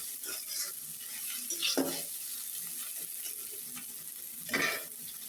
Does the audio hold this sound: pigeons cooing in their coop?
no